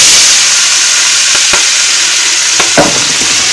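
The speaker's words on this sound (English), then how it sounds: "So I'm frying the spring onions now." Spring onions frying in chicken oil over a gas cooker give a loud, steady, close sizzle with hiss, broken by a few short scraping and clacking stirs in the pan.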